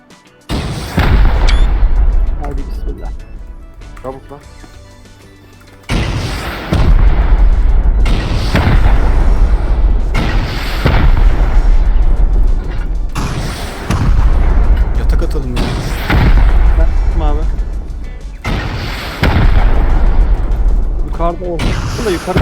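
Rocket explosions in a Rust raid, a series of about five loud, booming blasts arriving every few seconds, each with a long rumbling tail, with voices talking in between.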